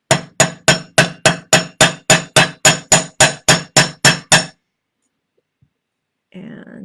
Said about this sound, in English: So I'm just going to hammer the end.